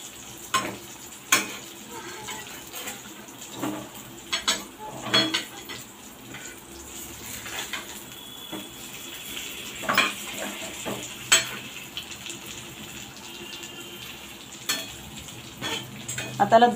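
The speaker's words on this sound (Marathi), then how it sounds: "एक साईडने चांगली त्याला परतून घेऊया जास्त" Slices of surmai fish shallow-frying in a pan over a low gas flame, Malvani style, give a soft steady sizzle with scattered clinks of a utensil turning them, fairly quiet and close, with no talking.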